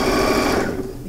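A sewing machine stitching a straight seam on a patchwork coin purse, its needle running in a close, loud, even whir that slows and tapers off toward the end.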